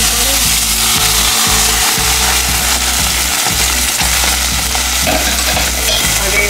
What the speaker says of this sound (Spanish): Aquí vamos a dejar que se dore nuestra carnita.